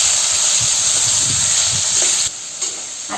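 Tomato hits a hot pan of onions and sizzles loudly with a broad, steady hiss and a few stirring scrapes, then the frying softens abruptly near the end, close and without talk.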